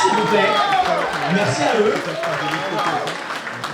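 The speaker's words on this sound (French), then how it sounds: "on peut les applaudir une nouvelle fois pour ça" Wedding guests applaud together at a celebration, steady clapping continuing under a voice speaking over it.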